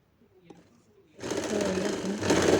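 Sewing machine stitching a child's ruffled frock, starting after a quiet second and then running steadily and loudly to the end with no talk over it.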